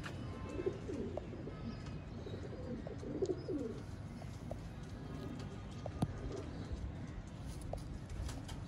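Pigeons at a breeder's loft in Sialkot giving soft, low cooing calls, mixed with scattered clicks and faint bird sounds over a steady background murmur.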